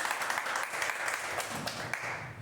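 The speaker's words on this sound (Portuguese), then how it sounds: "As palmas louvam ao Senhor, igreja." A church congregation claps together in a steady, continuous round of applause, moderately distant and fairly quiet, with no voices standing out.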